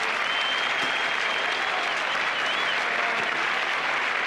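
A cricket Test match crowd of several thousand gives a steady, dense round of applause for a dismissed batsman, Steve Waugh. The clapping fills the whole stretch at an even level, with a faint whistle rising above it.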